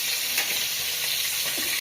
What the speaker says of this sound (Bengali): সেই সুন্দর করে কষাই নিচ্ছি